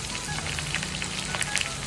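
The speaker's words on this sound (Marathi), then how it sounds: "तर आता आपण पहिले लसणावरती फोडणी देऊया आपल्या क्रॅबला." Crab pieces fry in hot oil over garlic tempering for an Aagri-style dish, giving a steady, close crackling sizzle with brief louder pops, no talking.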